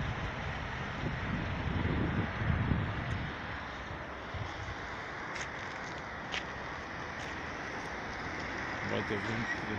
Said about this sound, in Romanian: Bate vânt de început de plouă.